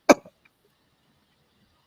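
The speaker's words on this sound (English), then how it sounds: "now I'm coughing" A single short cough from one person, close and sharp, followed by a brief trailing catch and then silence.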